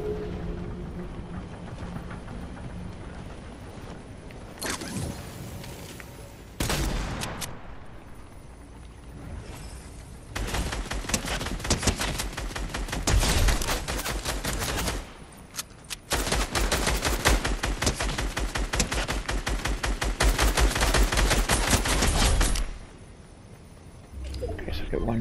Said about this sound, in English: Bullets. Somebody try to shoot me.